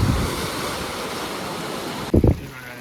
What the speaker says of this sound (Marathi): चांगला समुद्र आहे